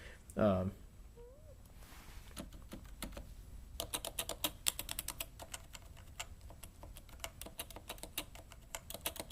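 Typing on a Topre Type Heaven keyboard, a fast run of soft, muted keystrokes that begins after a short burst of other sound and a brief lull, fairly close and steady.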